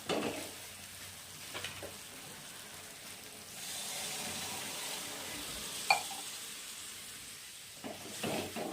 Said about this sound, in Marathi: आता आपण पाणी टाकायचं आवश्यकतेनुसार